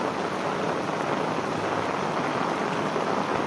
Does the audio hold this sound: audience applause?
no